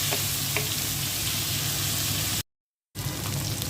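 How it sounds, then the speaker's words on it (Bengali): Tomato frying in a pan with onion, giving a steady close hiss of sizzling oil that cuts out briefly near the end before resuming, no voices. "টমেটোটা একটু ভেজে নিই।"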